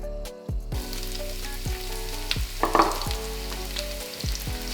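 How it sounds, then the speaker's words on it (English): Chopped onion frying in oil with a reduced tomato mixture for jollof rice, a steady close sizzle that runs throughout, with a few brief stirring scrapes and no voices. "So I will start by adding some oil and then add 1 chopped onion."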